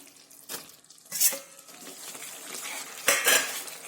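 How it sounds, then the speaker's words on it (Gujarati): A spoon scrapes and clinks in a pan as roasted ginger is stirred into melted jaggery, with a few sharp metallic knocks over a soft background sizzle and no voices. "તો હવે આપણે જે આદુને શેકીને રાખ્યું છે તે આપણે આની અંદર લઈ લઈશું."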